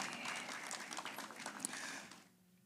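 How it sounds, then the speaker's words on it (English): An audience at a Ministry of Education career and technical education month celebration claps for the permanent secretary, giving a steady wash of applause that fades out near the end. "let's give her a round of applause"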